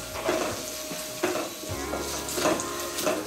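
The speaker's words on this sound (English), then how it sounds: "Try to mix it properly so that everything becomes oily." Brinjal and onions fry in oil in a pan with a continuous close sizzle, while a spoon stirs them in repeated scraping strokes.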